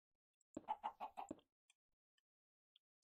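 A Minecraft chicken gives a short burst of soft clucks in a quick run, faint and close, followed by a few scattered tiny clicks in an otherwise quiet game scene.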